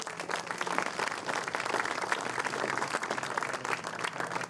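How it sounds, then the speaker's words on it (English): Sustained applause fills the air after a youth baseball state championship ceremony, with dense steady clapping from a crowd throughout and no talk. "I'd like to give you a quick round of applause."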